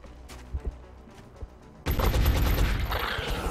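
XCOM video game gunfire opens with a few quiet clicks, then erupts into a loud, sustained burst of rapid shots with a lingering rumble. No talk is heard.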